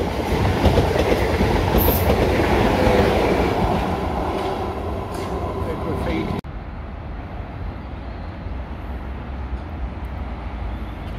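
Class 50 locomotive 50.086 departs Eastleigh station, a loud, close rumble of engine and rolling wheels that holds steady, then cuts to a quieter, more distant continuation.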